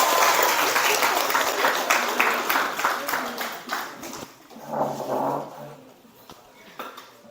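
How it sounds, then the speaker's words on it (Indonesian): Students in a high school biology classroom clap together, loud dense applause at first that thins and fades out, with a few voices talking underneath toward the end. "ayo semuanya tepuk tangan"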